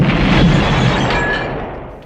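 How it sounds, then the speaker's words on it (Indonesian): Huge explosion in an action film, a single loud boom with a heavy low-end blast and a roaring tail that fades over about two seconds. "Beberapa saat kemudian terjadi ledakan hebat."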